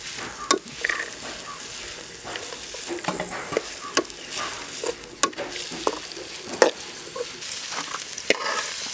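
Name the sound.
frying onions in pan for chicken pulimunchi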